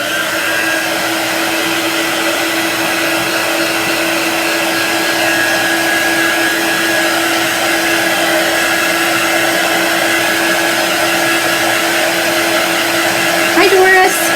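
A hair dryer blows steadily and loudly at close range while drying ink on fabric, a constant whirring roar with a faint whine that barely changes throughout.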